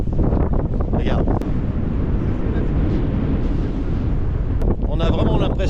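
Strong wind roars across the deck of a Navimag ferry in Chilean Patagonia, a loud, steady buffeting rush into the microphone that carries on without pause.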